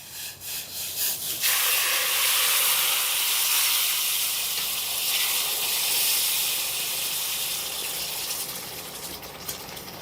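Water poured into a hot ghee-fried mixture in a large cooking pot sets off a loud, sustained steam hiss. It swells after a few sputtering bursts and slowly fades near the end.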